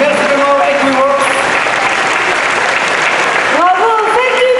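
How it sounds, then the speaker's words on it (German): Loud, dense applause from a large audience at the opening ceremony of an international folklore festival in Fribourg, steady throughout, with a voice calling out over the clapping at times. "Großen Applaus."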